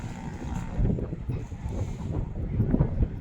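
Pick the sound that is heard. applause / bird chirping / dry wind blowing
dry wind blowing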